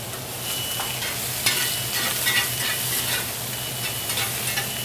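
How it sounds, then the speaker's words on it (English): Onions sauté in a pan for a vegan tofu veggie curry stir fry, a steady close sizzle broken by a few brief scraping stirs, with no talking. "what I'm listening for when I saute food like this is I listen for it to get loud or quiet."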